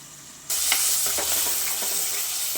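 Onions, garlic and green chilies sautéing for a stingray fish curry, a bright close sizzle bursting in suddenly and holding steady, with repeated ladle scrapes and stirring strokes over it.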